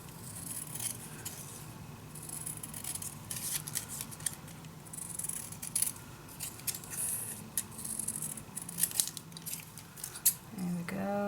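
Scissors snip through paper envelopes for a mini album, giving a run of short, close, crisp cuts with small pauses between them.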